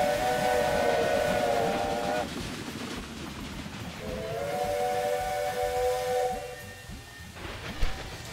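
Steam train whistle in the game Railway Empire 2, two long tonal blasts separated by a pause, loud and close over a steady chuffing and hissing rail background.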